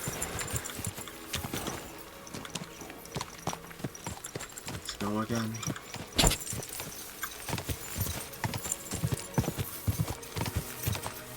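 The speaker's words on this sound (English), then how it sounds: "Riding this horse." Rhythmic clip-clop of horse hooves in the video game Kingdom Come: Deliverance II, continuous and fairly close, with someone talking over it and a brief whinny midway.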